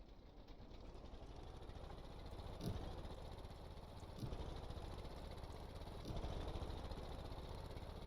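A vehicle engine idles steadily in Stormworks, a low rumbling drone with faint periodic thumps every couple of seconds, heard alone without talk.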